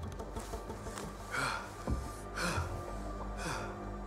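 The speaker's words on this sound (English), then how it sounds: "why are you breathing so damn heavy?" A character in Assassin's Creed Mirage breathes heavily, with a few rhythmic, fairly faint gasping inhales and exhales about a second apart over a low steady background hum.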